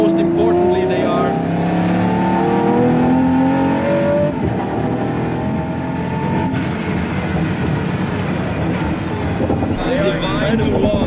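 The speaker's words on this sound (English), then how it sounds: "You can really hear a lot of air in the intake." A Pagani Huayra Codalunga engine pulls hard with a loud, sustained roar and strong blown intake rush, rising in pitch through gears under steady airy noise.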